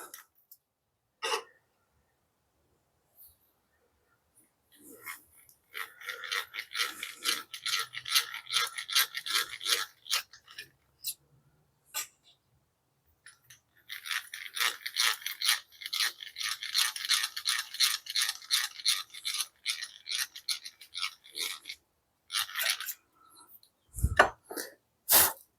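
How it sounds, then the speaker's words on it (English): A hand drill bores a hole in a marking knife blank, in bursts of gritty, raspy grinding separated by pauses, close and fairly loud, with a few clunks at the end. "I'm going to drill a hole."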